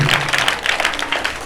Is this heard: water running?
no